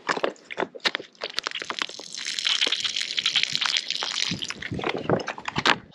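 Water forced by hand squeezing through a Sawyer Squeeze filter from a mylar foil pouch streams and splashes steadily, with irregular sputtering bursts and drips, close and fairly loud.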